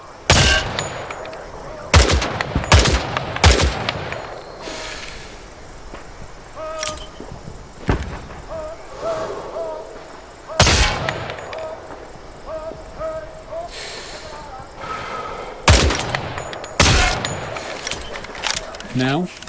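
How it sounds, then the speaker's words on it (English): Gunfire at practice targets in the Vietnam War shooter Hell Let Loose: Vietnam, with sharp single shots spaced irregularly through the clip over background game ambience, some shots close and loud, others fainter. "Shoot the targets ahead, aiming for the helmet to guarantee an instant kill."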